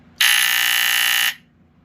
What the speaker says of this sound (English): This one's actually quieter, like one of the quieter buzzers I have in my collection